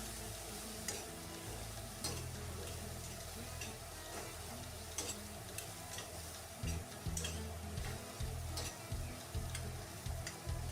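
Spice masala for a desi chicken curry fries in a pan with a little water and salt, making a quiet steady sizzle broken by repeated scraping, ticking stirring strokes, with no voices.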